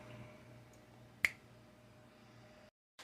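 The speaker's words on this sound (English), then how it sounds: "I'm gonna snap my fingers" One crisp finger snap cracks out sharply in a quiet room, standing alone against faint background hum before everything drops to silence.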